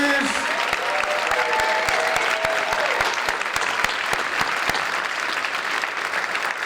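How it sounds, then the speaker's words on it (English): A hall audience at a high school senior awards ceremony claps for student award winners, dense sustained applause at a steady level with a few louder individual claps, a voice briefly heard at the start. "one more round of applause for all of our student award winners"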